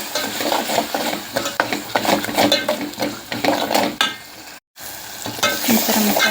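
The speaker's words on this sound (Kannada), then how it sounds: "ಈಗ ಚೆನ್ನಾಗಿ ಮಿಕ್ಸ್ ಮಾಡ್ಕೋಬೇಕು" Masala spices with salt, garam masala and coriander powder being stirred in a hot pan for a mutton keema dish, a steady loud sizzle with repeated scraping strokes of a spoon, briefly cut by a short silence near the end.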